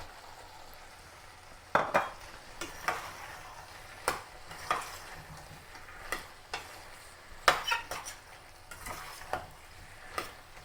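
Potatoes being stirred into tomato and onion frying in a pan for potato kurma, with a steady low sizzle under repeated scraping stirs and spoon taps on the pan, close and without speech.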